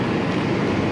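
Dharmawangsa passenger train running through Cirebon Prujakan station in Indonesia, a loud, close, continuous rumble of wheels and carriages with no voices.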